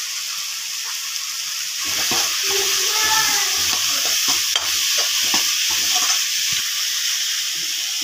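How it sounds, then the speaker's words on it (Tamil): Onion, tomato and capsicum, with salt, chili powder and turmeric, sauté in a pan for kaima idli, sizzling steadily while a spoon scrapes and stirs through them, the frying growing louder midway. "வெங்காயம், தக்காளி, குடமிளகாய் எல்லாம் நல்லா வதங்கணும்."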